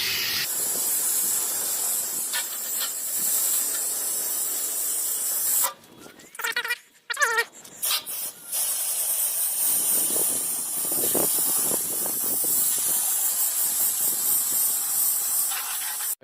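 A hose spray rinses foam off a car after foam gun application, a loud continuous hissing wash broken by a short pause midway before the spray resumes steadily, with no talking.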